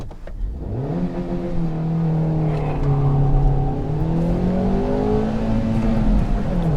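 A Hyundai Grand i10 Nios petrol car accelerates hard in first gear up to about 54 km/h, its engine note climbing steadily and loudly from inside the cabin.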